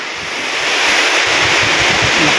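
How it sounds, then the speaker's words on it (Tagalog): Strong wind roars and buffets the microphone in the countryside during a sudden storm, a loud continuous rush that swells slightly after the start. "Lakas ng hangin"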